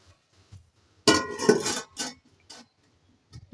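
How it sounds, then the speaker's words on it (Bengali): A dish set down as a lid over a pot of masoor dal with okra gives a sharp ceramic clatter and rattle, then a couple of lighter clinks, close and alone. "তা এখন আমি একটা ডিশ দিয়ে ঢাকা দিয়ে দিচ্ছি"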